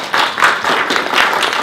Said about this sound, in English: Now, another round of applause for Doc and Tina.